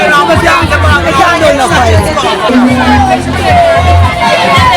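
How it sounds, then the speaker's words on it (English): Large, hectic crowd at a back-to-school ice cream treat event, dense continuous babble of many voices close by, with a deep rhythmic low thumping beneath. "we have a hectic crowd here. This crowd is massive."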